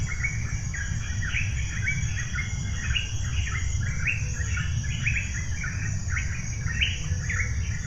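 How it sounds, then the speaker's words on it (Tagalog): A bird calls repeatedly in quick chirping bursts over a constant insect drone and low forest rumble, no voices present. "Pero alam ko ibon yan."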